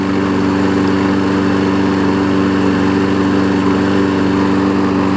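An older 5hp Briggs engine mounted on a Weed Eater mower deck runs loud and close, holding a steady, droning idle with a strong hum that never changes, and no voices over it.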